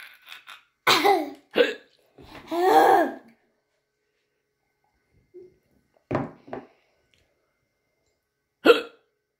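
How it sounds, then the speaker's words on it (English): A child hiccuping during a food challenge at home, with sharp, close, isolated hiccups scattered across long pauses after a few opening vocal sounds, and no clear speech among them. "I still got the hiccups."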